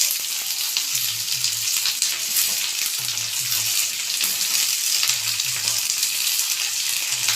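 Sliced onion, white or any kind, frying in a pan for coriander chutney, giving a steady close sizzle with soft stirring scrapes recurring throughout, no voices.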